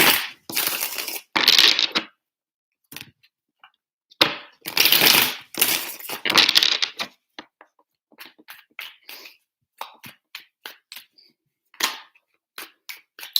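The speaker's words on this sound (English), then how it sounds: "Three shuffles for Taurus and their person" Tarot cards get shuffled in several loud, crisp riffling bursts, then lighter scattered taps and flicks with short silences between, close and alone.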